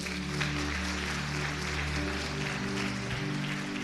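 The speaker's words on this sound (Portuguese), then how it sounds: "Vamos aplaudir o Senhor?" A church congregation applauds during a service, steady clapping spread through the room with a low, droning hum underneath.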